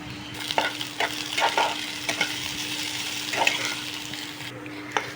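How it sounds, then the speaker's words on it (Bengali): Sliced potatoes and onions fry in oil in a pan, a soft steady sizzle broken by several stirring scrapes, with a low constant hum underneath. "পেঁয়াজটাও আলুর সাথে ভালো করে ভেজে নেব।"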